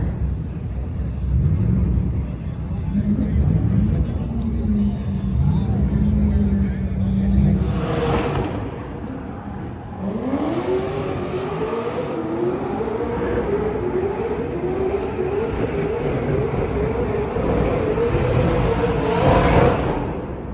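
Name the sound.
car burnout competition at SEMA car show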